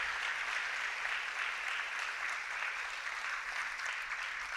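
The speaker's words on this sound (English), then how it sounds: "Can we give them a giant round of applause?" A school awards assembly audience applauds in a steady, even wash of clapping that holds for the whole stretch, fairly soft and distant, with no talking over it.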